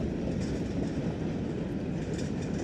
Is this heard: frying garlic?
no